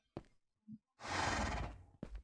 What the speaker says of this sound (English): And that's my horse.